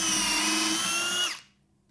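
A Skil flip drill/driver set to drill mode whines steadily at high speed as it drives a 1.25-inch Phillips deck screw, loud and close, then the motor winds down and stops abruptly near the end.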